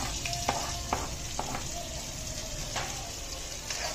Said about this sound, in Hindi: ये प्याज थोड़े हम सोते कर लेते हैं